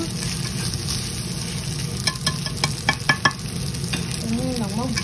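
Fried rice with ham stir-fried in a pan, a steady sizzle with spatula scrapes and clacks against the pan, close and alone.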